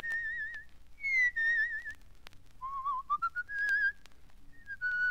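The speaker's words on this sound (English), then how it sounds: "I whistle, too." A person whistles a tune up close, with clear melodic phrases broken by short pauses and no talking.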